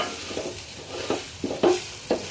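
White pulao rice is stirred in a pot over a gentle sizzle, with a few distinct scraping strokes spaced about half a second apart, close and clear, with no talking.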